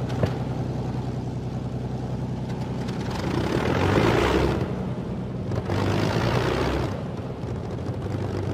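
The two engines of a de Havilland Mosquito night fighter run after start-up, a loud, close propeller drone with a steady low hum that swells in two surges of rising roar before settling back.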